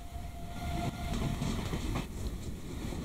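A moving train in a 1942 Soviet-era roleplay video game rumbles steadily nearby, with faint rhythmic rail clatter and no voices.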